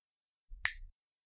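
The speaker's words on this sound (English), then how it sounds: "How about I give you the ability to snap your fingers and make a hot woman appear" A single sharp finger snap, close and crisp, alone against near silence.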